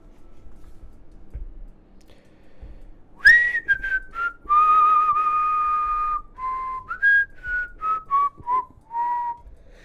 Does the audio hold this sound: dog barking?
no